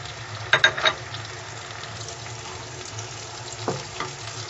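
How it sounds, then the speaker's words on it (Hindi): Vegetables for turai bhaji, ridge gourd, frying in a pan, a steady soft sizzle with a few louder crackles and stirring clinks near the start and toward the end. "5 से 6 मिनट हो चुके हैं और ये फ्राई हो गई है"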